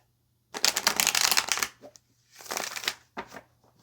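Tarot cards being shuffled nearby in two quick riffling bursts, the first longer, followed by a few short taps of cards settling, with no voices.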